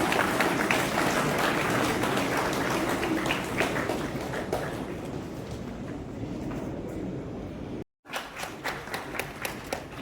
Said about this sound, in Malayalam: എല്ലാവരും ഒന്ന് എണീറ്റ് നിന്ന് കൈയടിക്കണമെന്ന് അപേക്ഷിക്കുകയാണ്